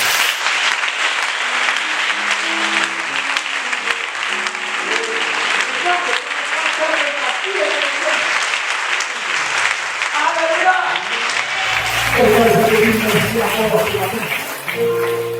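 A church congregation bursts into sustained, dense applause throughout. A voice is heard over it, and later singing and music join in.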